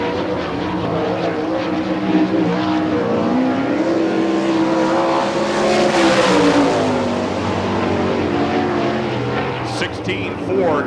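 A sprint car from the All Star Circuit of Champions runs a lap on the dirt track at Hartford, Ohio, its loud engine droning and rising in pitch as it accelerates, under an announcer's voice.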